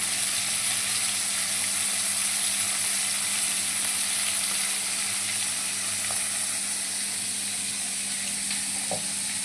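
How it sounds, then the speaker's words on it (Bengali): Steady hiss of fish frying in a pan, a constant sizzle with faint occasional pops, heard alone without voices. "আমি সবকটা মাছ এবার ভেজে নিচ্ছি"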